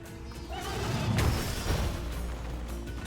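A horse neighs during a chase sequence in the video game Little Goody Two Shoes, a loud whinny rising out of rumbling game audio and fading back under it.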